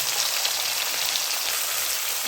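Shrimp frying lightly in hot oil give a steady, bright, crackling sizzle, continuous and even with no talk.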